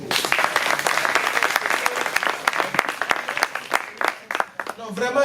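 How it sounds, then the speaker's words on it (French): An audience claps loudly and continuously for several seconds, the applause dense with individual claps, and a voice comes in near the end. "Applaudissez vous-même"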